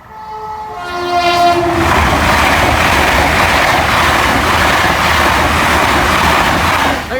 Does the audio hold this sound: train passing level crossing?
yes